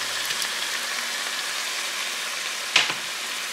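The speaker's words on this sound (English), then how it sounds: "We're just gonna let this saute for 4 or 5 minutes." Minced garlic and onions sauté steadily in a pan, a continuous soft sizzle with one brief louder clatter of stirring near the end.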